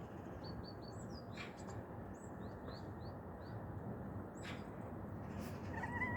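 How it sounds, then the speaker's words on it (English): Small birds calling on a balcony give faint, quick high chirps in short bursts, repeated over a steady background hiss. "Yes, it's birds."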